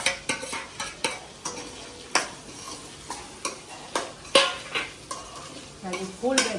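Noodles with vegetables and onion are stir-fried in a pan, with repeated sharp scrapes and clanks of a utensil against the pan over a faint sizzle, close up and fairly quiet.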